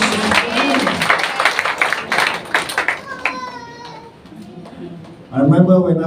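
A church congregation claps for Jesus in a loud burst of applause mixed with voices. It fades after about three seconds into talk, with a child's cry near the end.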